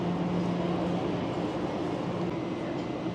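A train standing at a station platform in Xining, China, heard as a constant low mechanical rumble with a steady hum that fades partway through, and no voices over it.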